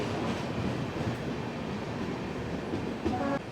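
Train 13115, the Sealdah–Jalpaiguri Road service, rolls into Berhampore Court station in Murshidabad with a dense, steady rumble of wheels and carriages, a faint squeal rising near the end.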